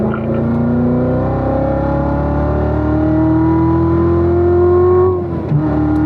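A race car with a manual gearbox accelerates hard out of a corner on a track, its engine note climbing steadily and loudly in one long pull before a brief dip at the end, heard from on board.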